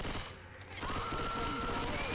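Rapid bursts of gunfire aimed at the Witch in Left 4 Dead 2, loud and continuous, with a voice talking over the shooting.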